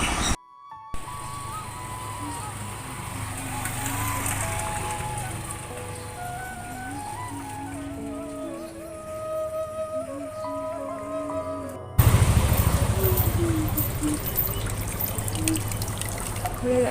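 Water running steadily into a bucket outdoors, a continuous close trickle and splash, with a brief break and then a louder, fuller gush near the end, alongside faint background sounds.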